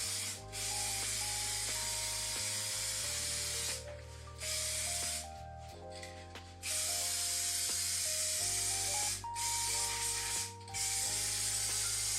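Spray painting a 1967 Ford Country Sedan: a steady, close hiss of the spray gun runs almost continuously, broken by a few short pauses, with a low mechanical hum underneath.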